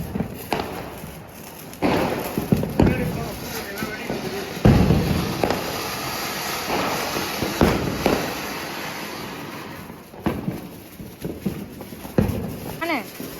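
Flower pot firecrackers set off during Diwali give scattered sharp pops, bangs and crackling bursts at close range, while people talk throughout.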